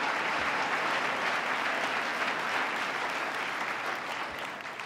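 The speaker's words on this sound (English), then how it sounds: "Let's give them another round of applause for not applauding for anything." Sustained audience applause in a large hall during a state address, a dense, continuous wash of clapping from a big crowd that tapers slightly near the end.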